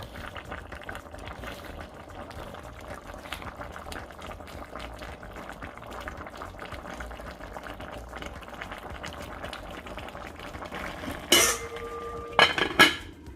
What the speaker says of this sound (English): And now I'm gonna just let this simmer for another 15 minutes.